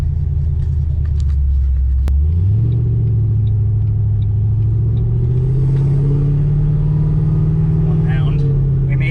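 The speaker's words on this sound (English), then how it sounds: "we're gonna be driving around and testing this out" A supercharged Ford Mustang engine rumbles steadily from inside the car on a test drive, its pitch rising as it accelerates after a brief shift, with low road noise throughout.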